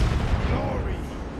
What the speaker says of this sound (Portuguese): Passou todos os tiros, os 8 tiros do canhão.